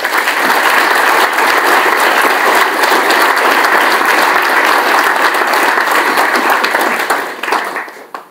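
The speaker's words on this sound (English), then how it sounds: "So I'm going to ask you to join me in applause for everyone I've mentioned today." A full audience applauds at the end of a speech: loud, dense, sustained clapping that holds steady for several seconds before fading away.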